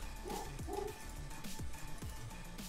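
Dogs bark outside in a series of sharp, moderately distant barks spread across the moment, over a steady background hum.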